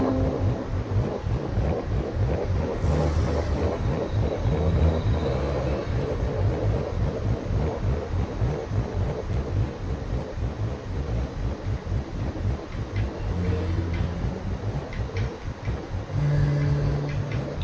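A cammed car engine in Forza Horizon 3 idles with a choppy, loping rhythm and is revved in bursts. It is loud and continuous, with no voices.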